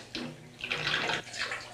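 Bathwater sloshes and gurgles in a bathtub in short, splashy bursts, close by and moderately loud.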